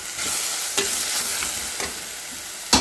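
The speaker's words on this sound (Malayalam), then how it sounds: "ഇഞ്ചി വെളുത്തുള്ളി പേസ്റ്റ് ഇട്ട് ഒന്ന് ഇളക്കി കൂടെ പച്ചമുളക് ഇട്ടിട്ടുണ്ട്" Ginger garlic paste and green chilies sizzle loudly in a pan for a tomato curry, a steady frying hiss broken by a few scraping stirs and a sharper clank at the end.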